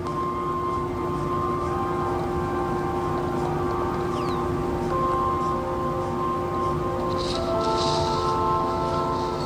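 Minecraft Bedrock's menu lullaby plays as soft, sustained, calm tones over a steady ambient bed, with a few brighter higher notes near the end and no talking.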